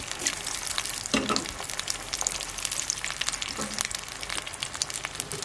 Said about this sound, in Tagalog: Then dito po, ilagay po natin itong soup stock.